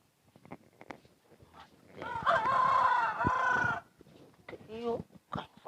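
A rooster crows once, loud and close, a long drawn-out call lasting nearly two seconds, framed by scattered clucks and people talking before and after.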